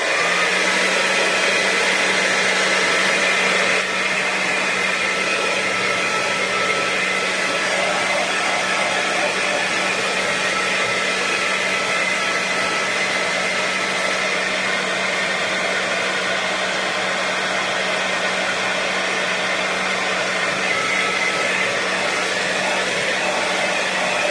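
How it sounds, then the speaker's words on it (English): A heat tool blows steadily to dry freshly stamped ink, a loud continuous whooshing hum that runs unbroken and close throughout, with no speech over it. "I'm going to give it a bit of a burst of heat just to make sure that that ink is dry."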